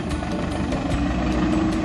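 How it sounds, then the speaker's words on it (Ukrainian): A steady, low engine drone of heavy construction machinery digging a decorative pond runs continuously, fairly loud and unchanging, with faint rhythmic ticks above it, in light rain. "Зараз на об'єкті працює техніка"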